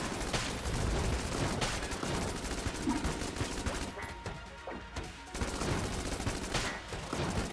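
Sustained rapid gunfire from the Earthworm Jim gun in the game Enter the Gungeon, a dense, steady barrage of shots running almost without pause, loud and close, with a brief dip in intensity midway.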